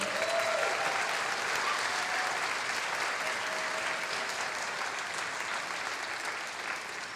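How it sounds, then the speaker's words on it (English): Big round of applause from the audience at a student film festival awards screening, steady dense clapping sustained throughout at even volume with no speech over it. "Please, one more big round of applause for everybody."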